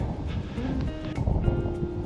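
Gusty wind on a chilly Alberta hike buffets the microphone in a low, rumbling roar, steady with small surges, and no voices.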